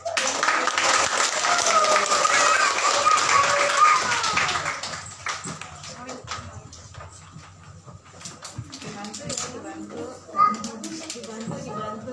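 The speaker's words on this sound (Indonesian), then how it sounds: "Sekali lagi tepuk tangan dong." A Christmas family church congregation claps together, loud and dense at first and then thinning into scattered claps, with voices talking over the quieter stretch.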